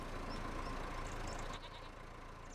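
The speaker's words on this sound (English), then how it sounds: "Goats obviously found something nice on the concrete there." Goats bleating in the Farming Simulator 25 farming game, several short high calls over a steady ambient farm bed, moderately close and fairly quiet, with no talk.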